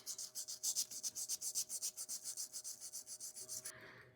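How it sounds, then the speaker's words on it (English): Sandpaper rubs rhythmically over the stem of a Dr. Grabow Golden Duke tobacco pipe, about twenty quick close strokes in a steady back-and-forth pattern, quiet and with no talk. "Do a little sanding."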